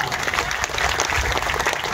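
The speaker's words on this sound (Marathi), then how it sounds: "म्हणून जरा जोरदार टाळ्या वाजवा" Loud, dense applause from a crowd at a birthday rally in a taluka, greeting politician Nitesh Rane; steady clapping fills the whole stretch without a break.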